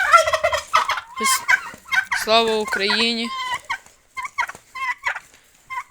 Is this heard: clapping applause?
no